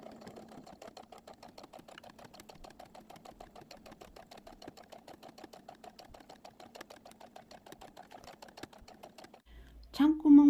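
Sewing machine stitching the brim edge of a reversible bucket hat, a fast, steady run of rattling needle clicks that stops near the end before a louder clunk and a brief noise.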